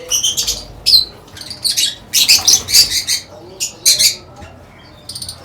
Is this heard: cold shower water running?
no